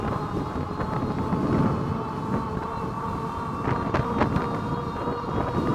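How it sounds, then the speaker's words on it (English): Strong headwind roars steadily across the microphone while riding a Kingbull Rover e-bike into the wind at around 29–30 mph, a loud, continuous buffeting rush with brief gusty bursts and no speech. "Definitely a strong headwind."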